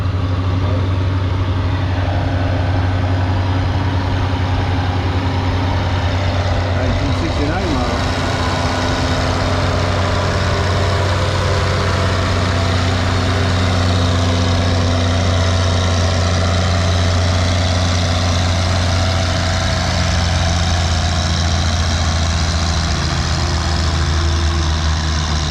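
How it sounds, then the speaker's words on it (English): A Minneapolis Moline UDLX tractor with a 504 cubic inch diesel engine pulls a sled, its loud, deep, continuous engine drone holding steady and close throughout. "This is, again, a 504 cubic inch diesel engine."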